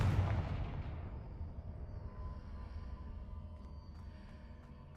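A Confringo spell explodes in a video game with a sudden booming blast at the start, then a long rumbling tail that fades slowly, with faint ambient game tones beneath.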